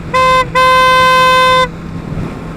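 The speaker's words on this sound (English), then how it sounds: "I changed the horn out to a single car horn." A 2020 Kawasaki Ninja 650 motorcycle fitted with a single car horn honks twice, a short toot followed by a longer blast, close and piercing, then a quiet idle rumble.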